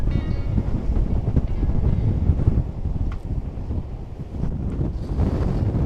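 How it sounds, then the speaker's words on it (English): Strong wind blasts across the microphone on the rugged Oregon coast along Highway 101, a loud, continuous buffeting roar with faint surf underneath and no voices. "The wind here is so strong"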